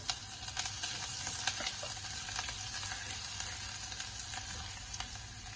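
Garlic, green chili and ginger frying in a pan with mustard, fennel and cumin seeds, a steady close sizzle broken by light scraping stir strokes, with no talking.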